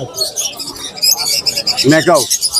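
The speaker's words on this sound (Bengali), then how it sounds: "এটা হলো আপনার ব্লু ঠোঁটের কনুর" A blue-beaked conure parrot at a busy Mirpur bird market gives high, chirpy calls, ending in a pair of louder harmonic squawks, with crowd chatter and bustle behind it.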